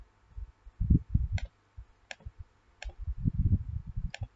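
Four crisp, sharp computer mouse clicks in software, spaced about a second apart and heard close, with low bumps of handling noise between them.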